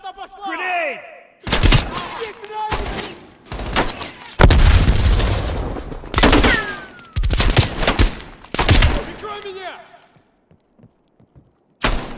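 Call of Duty Black Ops Cold War combat: repeated loud gunfire bursts and booming blasts, including a grenade explosion, mixed with shouted voices, then trailing off to quiet near the end.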